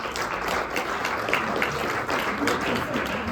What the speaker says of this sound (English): A round of applause for our panel for being here today.